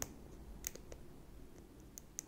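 Lock pins clicking while a padlock is picked, a handful of faint, sharp, irregular clicks over a quiet background, spaced unevenly across a couple of seconds.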